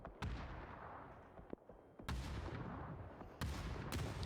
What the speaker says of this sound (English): good nade from Na'Vi, but it's actually the Sauna boys making them land